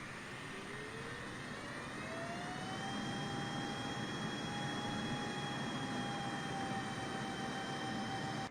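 A four-engine Air Force One jet spools up to full takeoff power on a short runway, a loud, steady roar with rising turbine whine building over the first few seconds and then holding strong throughout.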